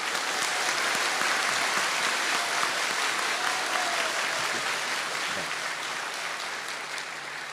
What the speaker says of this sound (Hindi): इन तीनों मुस्लिम भाइयों के लिए जोरदार ताली।